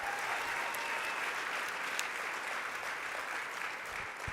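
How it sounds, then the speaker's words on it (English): Audience at a colorectal cancer research foundation gala gives a sustained round of applause, a dense even wash of clapping from a sizeable crowd, steady throughout. "One more round of applause for the CCC as well for coming up,"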